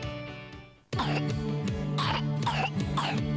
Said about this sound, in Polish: Słyszałam kaszel.